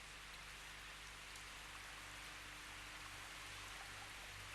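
Steady rain falls in a misty, foggy wood, a dense, even hiss that goes on without a break and has no voices over it.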